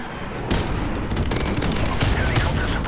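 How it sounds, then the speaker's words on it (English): Airstrike explosions and rapid gunfire in a Modern Warfare Remastered search-and-destroy match on Shipment or Vacant, a dense loud barrage of booms and shots starting abruptly and continuing throughout. "Let's see how much this airstrike can get this time."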